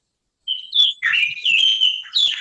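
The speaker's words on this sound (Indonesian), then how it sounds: "Ada suara burung itu" A bird chirps nearby during an online class, giving a clear series of short, high tweets and trills over about two seconds with no talk over them.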